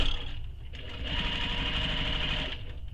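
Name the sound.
sewing machine top stitching a bag panel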